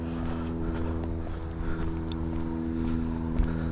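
A Toyota Highlander engine runs with rod knock, a loud, steady rumbling idle with a dense repetitive knocking pulse, close up and without talk.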